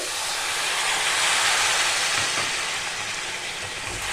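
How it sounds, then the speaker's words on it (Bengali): Water poured into a hot pan of mango pickle with melting sugar over low heat, a steady loud hiss and sizzle that holds for several seconds and eases slightly toward the end. "এবার আমি একটু জল দিচ্ছি"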